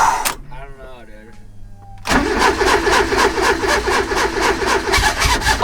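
A car engine cranks briefly and catches, settling into a loud, steady running rumble close by. A voice talks over the quiet stretch before it starts.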